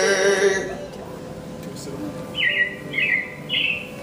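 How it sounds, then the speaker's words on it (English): Animatronic show sound effect of robins chirping at the Carousel of Progress in Disney World, three short bright tweets near the end following a sung line, with people talking faintly underneath. "it looks like the Robins are getting ready to celebrate Valentine's Day today."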